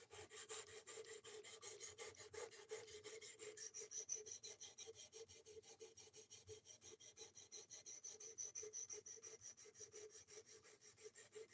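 A file rasps steadily along a knife edge to raise a burr, producing a fast, even rhythm of close scraping strokes with no talk.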